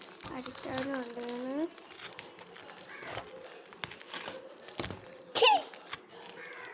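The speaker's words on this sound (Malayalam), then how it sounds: "അപ്പോൾ അതേ ഞാൻ സ്റ്റിക്കർ എടുത്ത് കളയാം" Stickers peeled and torn off a piece of wood during shelf making, crinkly ripping bursts near the mic with a sharper tear toward the end, while a person talks over much of it.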